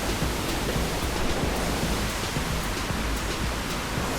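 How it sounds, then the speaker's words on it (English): Rain falls at Edralin Falls, a mountain waterfall in Kasibu, blending with the cascade into an unbroken, even hiss of water, close and steady, with no talking. "Only drawback is now it's raining."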